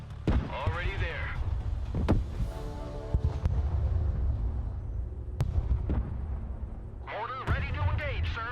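Mortar artillery fire in the Broken Arrow war strategy game: several sharp, booming launches and impacts spread through the stretch, over a steady battle rumble, with radio-style voices talking at the start and end.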